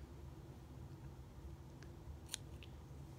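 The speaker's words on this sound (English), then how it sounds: "So you just kind of take some scissors," A couple of quick, crisp scissor snips trimming fabric residue from a punched hole, over a steady low hum of room noise, fairly close.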